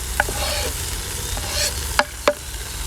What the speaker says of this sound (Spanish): Ahora vamos a sofreír un poquito de ajo